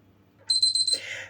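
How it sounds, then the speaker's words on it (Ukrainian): A kitchen timer beeps in a quick run of sharp, high electronic pulses while homemade paneer cheese is being made, loud and close in a quiet room, followed by a brief rustle. "у мене спрацював таймер"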